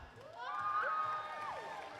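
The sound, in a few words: audience cheering and clapping for LEGO team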